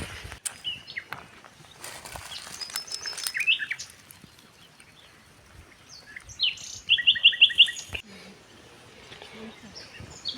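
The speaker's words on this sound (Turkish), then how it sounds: "Kuş sesleri" Small birds chirp and trill in short bursts outdoors in a cherry orchard near a village, with a quick repeated run of notes midway, over faint rustling and footsteps.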